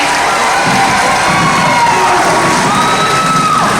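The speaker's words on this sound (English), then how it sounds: "Let's give him a big round of applause." A crowd at a SeaWorld San Antonio dolphin and beluga show cheers and shouts steadily throughout, with excited children's voices and whoops in a loud, continuous wash of noise.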